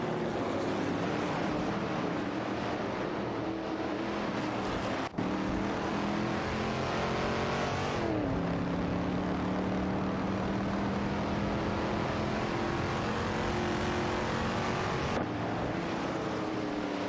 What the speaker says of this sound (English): It's an intense showdown between a Chevrolet Corvette C3 Sraun and an Aston Martin